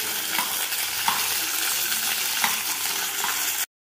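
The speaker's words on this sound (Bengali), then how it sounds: "ক্যাপসিকাম আমার ভাজা হয়ে গেছে," Capsicum pieces crackle and sizzle in a hot pan while a spoon stirs them with soft periodic scrapes, steady and close with no talk.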